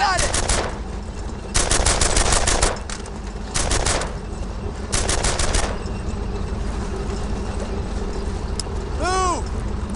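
WWII-era weapons fire in the video game Brothers in Arms: Earned in Blood, several loud bursts of automatic gunfire separated by brief pauses over steady battlefield rumble, ending with a ringing metallic whine.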